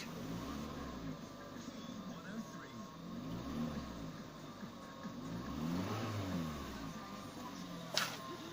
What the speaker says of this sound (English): run the engine for at least 20 minutes while the bandage is curing